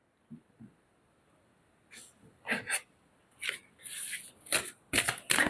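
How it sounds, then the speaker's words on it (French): Oracle cards being shuffled and drawn, heard as close bursts of riffling and sliding that follow a few soft taps and grow busier toward the end, with no talk. "J'ai besoin de vous tirer une carte des messages de lumière."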